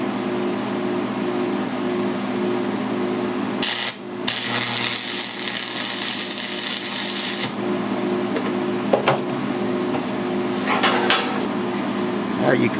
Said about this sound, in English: I'm going to weld a nut on there with my angle adjuster